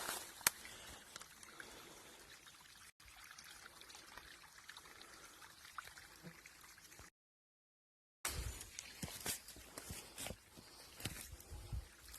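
A shallow stream trickles over stones with a steady, faint burble and splash close by, broken by a short gap of silence, with occasional small knocks and no talking.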